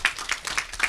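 An audience at a Jeju 4·3 peace forum session claps, with a short burst of several distinct hand claps in a steady rhythm from a nearby hall.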